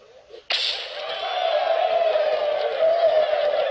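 A crowd in the Hearthstone card game bursts into loud cheering after a brief quieter moment, then holds as a sustained roar of voices to the end.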